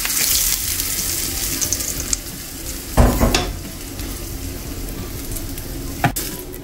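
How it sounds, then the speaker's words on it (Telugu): Hot tempering of oil with curry leaves poured into old tamarind chutney hisses loudly at first, then settles into a steady close sizzle with a sharp burst and a couple of spoon clinks as it is stirred in. "ఈ పోపుని ఇందులో వేసేసుకుందామండి."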